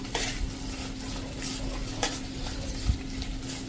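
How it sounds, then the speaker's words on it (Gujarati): A spoon stirs red chilli pickle with jaggery and mango masala in a pan, scraping and clinking against the metal in irregular strokes over a low, steady sizzle, with one sharp knock near the end and no voices. "હવે આ સ્ટેજે આપણે જે આ ગોળ કેરીનો મસાલો છે એ નાખી દેશું અને એને આપણે મિક્સ કરી લેશું"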